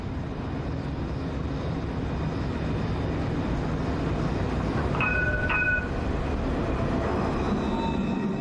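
Citadis tram rolling through Lyon, a steady loud rumble of wheels and motor running the whole time, with a brief high squeal or tonal whine about two thirds of the way through.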